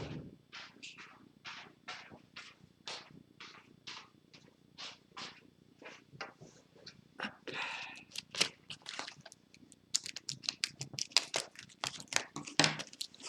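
Paper package being cut open with scissors, a run of short crisp snips and crinkles close up, speeding into denser rustling and tearing of paper toward the end.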